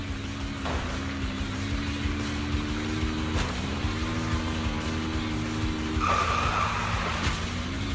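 Video game car in Zenless Zone Zero driving with a steady engine drone and repeated long tire squeals as it skids through turns, loud and continuous with no talk.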